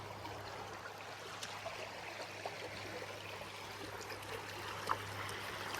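Creek water runs steadily over rocks and boulders along a hiking trail, a continuous close rushing wash with faint trickles and a few brief knocks on top, with no talk.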